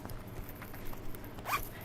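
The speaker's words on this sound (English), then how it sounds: "recess zipper," A zipper on a handmade bag with recessed zipper hardware is pulled, a brief close rasping zip near the end over quiet room noise.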